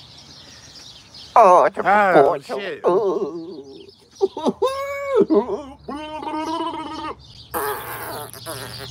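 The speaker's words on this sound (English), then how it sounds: "there's like 100 birds over here" A large flock of birds calls loudly nearby in bursts of harsh, warbling squawks that rise and fall, with people talking between the calls.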